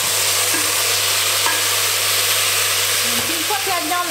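Meat browning in a hot pan, a steady close sizzle and hiss of frying running without a break for a few seconds, with faint clinks from stirring.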